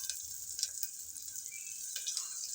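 Stuffed whole onions frying in oil seasoned with cumin and asafoetida, a Kathiyawadi-style dish, giving a steady, fairly faint sizzle with a few brief crackles and stirring sounds, no talking.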